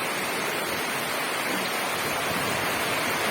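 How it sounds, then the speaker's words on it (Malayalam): Steady, dense rain hiss with light wind fills the whole stretch outdoors by a house among trees, a constant wash of falling water with no pauses and no voices. "മഴയുണ്ട് ചെറിയ കാറ്റുമൊക്കെ ഉണ്ട്"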